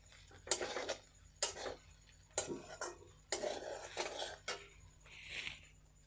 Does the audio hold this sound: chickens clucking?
no